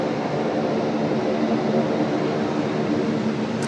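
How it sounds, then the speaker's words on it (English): Garuda Indonesia airliner in 74th anniversary livery taxiing on taxiway Alpha at Sydney Airport, a steady broadband jet engine rumble heard from a distance, continuous and even throughout with no voices. "The lovely 74th anniversary Garuda livery. Just taxiing out there now on taxiway Alpha."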